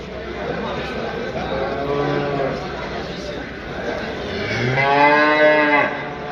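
Cattle moo loudly nearby at a livestock market in Düzce, Turkey, two drawn-out lowing calls, over a busy background of people talking and general crowd noise.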